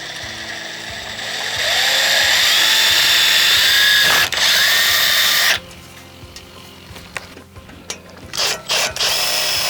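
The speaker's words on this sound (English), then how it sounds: "So let's get started with drilling the holes." A power drill with a 1/4 inch metal bit bores holes during an RV awning repair, first a loud sustained whine, then stopping and restarting in short bursts.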